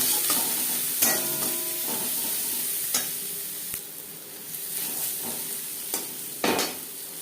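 Chopped onion goes into two spoonfuls of hot mustard oil and fries with a steady close sizzle, broken by spatula stirs and scrapes in the pan. No one speaks.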